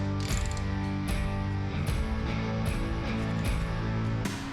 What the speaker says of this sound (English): Unbolt the seat belt.